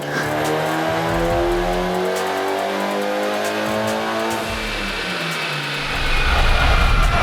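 A turbocharged Mitsubishi Evo making around 400 wheel horsepower on a dyno at 24–25 psi of boost, its engine droning loud and close as the revs climb in a sustained pull, then easing off and roaring back up.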